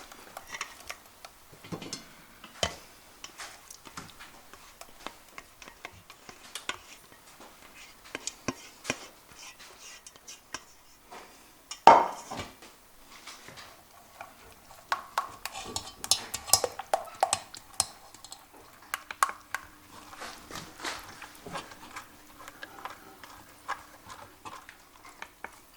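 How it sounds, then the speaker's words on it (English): Blended tomato and basil soup pressed through a sieve into another pan: scattered metallic scrapes, taps and clinks of a spoon against the mesh and pan, fairly quiet and irregular, with one sharper knock midway. "you want to sieve it into another pan so you get rid of any skin or any lumpy bits"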